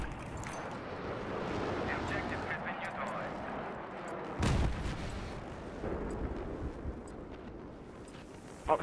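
Gunfire at a tank in a Battlefield-style match on Kharg Island, with a continuous rumbling battle din and a sharp loud blast about midway, plus another burst at the end, beneath player chatter.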